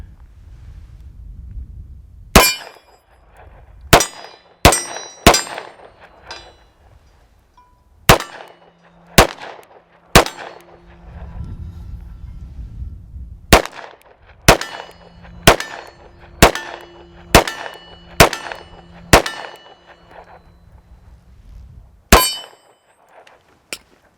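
A CZ 75 PCR 9mm pistol fires about fifteen shots, each sharp crack followed by a ringing clang from a steel target, in uneven bursts with short pauses, loud and close.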